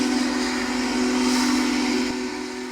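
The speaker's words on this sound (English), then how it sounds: "Union Pacific's Big Boy 4014 engine crossing the Tunkhannock Viaduct in Nicholson 2 weeks ago" Union Pacific Big Boy 4014 steam locomotive at the Tunkhannock Viaduct in Nicholson, giving a steady, loud rumble with a sustained low drone and broad hiss, holding level throughout before easing slightly near the end.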